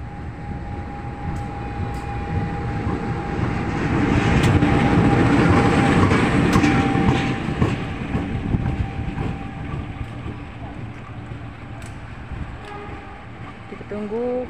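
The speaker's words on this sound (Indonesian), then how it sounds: "Kita tunggu saja kedatangan lokomotif CC201 dari arah Pasar Senen." CC201 diesel locomotive pulling into Jatinegara station on a drizzly morning, a loud low rumble and engine drone that swells to a peak mid-clip then eases, with wheel clatter and faint sharp squeals over it.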